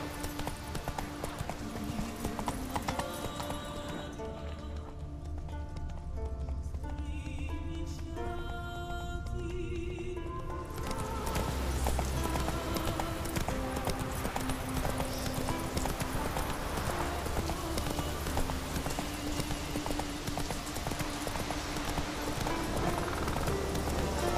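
A horse in The Witcher 3 video game gallops with steady, rhythmic hoofbeats throughout, mixed with in-game music and ambience; no clear neigh stands out.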